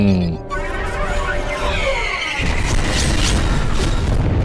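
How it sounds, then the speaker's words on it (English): Bombing explosions in the Star Wars animated series The Clone Wars episode Liberty on Ryloth, as a village is bombed: deep booms and crashing rumble rise abruptly and swell into a sustained roar, loud and close. "They bombed the village."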